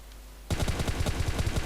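Rapid automatic M762 rifle fire in a video game, a dense run of loud, evenly spaced shots that starts abruptly after a brief quiet moment and continues steadily to the end.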